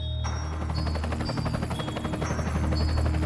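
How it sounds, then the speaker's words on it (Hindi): A cartoon helicopter flies with a steady, loud, fast rotor chop and a low engine drone, continuous throughout. "सब लोग हेलीकॉप्टर में बैठकर थिएटर के लिए जाने लगते हैं"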